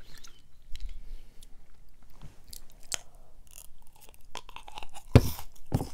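Crunchy cucumber salad being chewed up close in a mukbang-style eating session, with scattered crisp bites and wet crunches, including a louder burst of crunching near the end.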